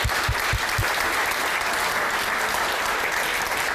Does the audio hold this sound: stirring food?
no